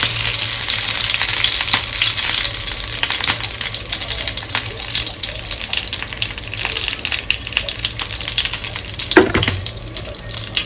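Curry leaves sizzling in a generous amount of hot oil for a seer fish (vanjaram) curry, a steady broadband frying hiss throughout with a brief louder crackle near the end and no talking.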